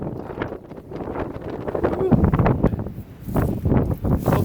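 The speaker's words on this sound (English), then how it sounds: "Hopefully you can hear me good on this windy day." Strong gusting wind buffets the microphone, roaring and rising in loud surges throughout with no clear pauses.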